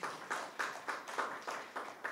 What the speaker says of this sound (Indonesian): Mari berikan tepuk tangan bagi Tuhan